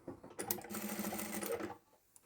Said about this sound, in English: The top stitching is done on one side and we'll repeat that on the other side.